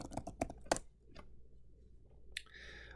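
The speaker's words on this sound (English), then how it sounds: "I can now just type pretext publish." Quick clicking keystrokes on a computer keyboard, a short burst of several taps at close range, then quiet and a faint later click.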